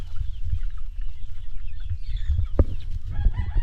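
Chicks and chickens on a farm cluck and peep close by, with scattered soft calls and a few sharper chirps over a low, rumbling background.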